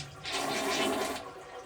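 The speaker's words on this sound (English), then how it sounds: "And then the second step is you flush" A toilet fitted with a BIGCOW ultra-slim dual-nozzle bidet attachment flushes, with a single rushing surge of water close by that swells and then begins to fade.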